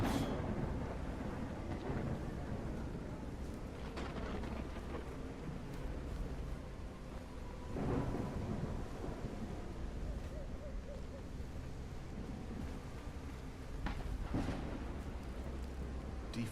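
Steady rain pours in a video game storm, broken by several deep rolling thunder rumbles at irregular intervals, a dense, moderately quiet soundscape with no voices.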